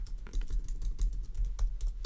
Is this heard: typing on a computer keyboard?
yes